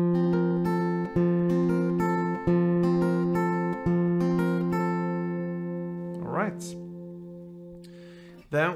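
Acoustic guitar riff, played for four rounds, plucked notes ringing steadily with a few re-struck accents, close and clear, ending in a brief hum of voice.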